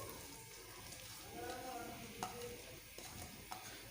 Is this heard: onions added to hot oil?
yes